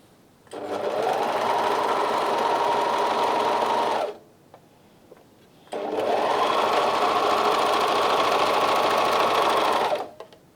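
A Bernina 1100DA serger runs with its cutter engaged, two long even bursts of loud, close whirring separated by a brief pause.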